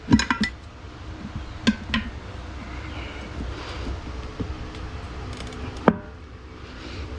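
A metal tire bar clinks and taps while an ATV tire is levered onto a new ITP wheel, giving a few sharp, scattered clanks over soft wind noise, with no talking.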